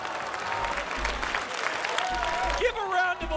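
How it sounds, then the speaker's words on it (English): Applause for two players after a gaming match, dense clapping running throughout alongside talking voices and a rising musical tone near the end. "Give a round of applause for both of our players."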